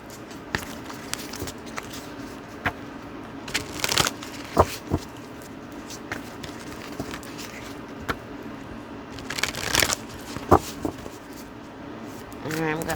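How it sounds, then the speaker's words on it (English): A deck of oracle cards is shuffled by hand, giving close, papery riffles and soft taps in uneven bursts, with someone talking alongside. "I'm going to shuffle the cards."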